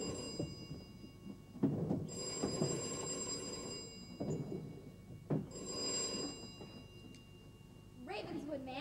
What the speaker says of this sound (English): It's a telephone.